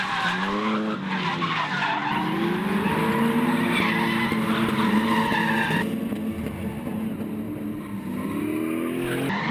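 Tires squeal loudly as a drift car slides around a track in a drift battle, one long skid with rising and falling engine whine, near and continuous, then a change in tone as the car runs off into the dirt.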